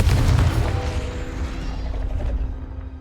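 A Confringo fire spell bursts in Hogwarts Legacy, a loud low boom at the start that rumbles and fades over a few seconds with mechanical creaking underneath.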